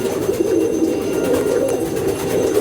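Madrasi pigeons cooing in a loft, a dense continuous chorus of soft, close, overlapping coos with no voices.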